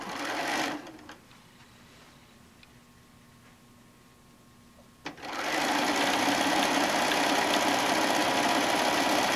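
A sewing machine chain-pieces fat-quarter quilt blocks for a Busy Bee pattern quilt. A short whirring burst comes first, then a quiet pause, then a long, loud, steady close-up run of stitching.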